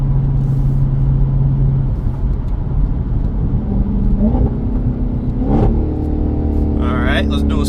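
A car with Mickey Thompson Street SS tires accelerates onto the highway, a loud steady engine drone and tire roar rising through gear shifts, with faint talk under it.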